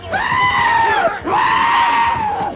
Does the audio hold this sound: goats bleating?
yes